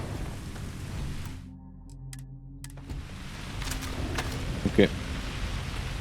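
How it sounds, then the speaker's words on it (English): Steady rain pours on an alien planet in Starfield, a soft hiss that briefly drops away as a low tonal hum takes over, then returns. Someone speaks a single quick word near the end. "It's a rainy planet, it seems."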